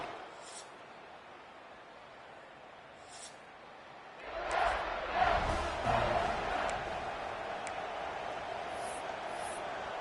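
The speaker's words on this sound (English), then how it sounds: "This crowd ready to make its presence known." A stadium crowd in the EA Sports College Football video game, at a Texas Longhorns game, rises into a loud roar and cheer after a steady distant murmur.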